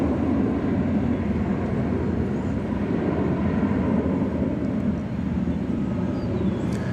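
An American Airlines Airbus A320 arriving at DFW Airport from Austin, heard as a loud, steady broadband engine roar that stays constant with no gaps or voices.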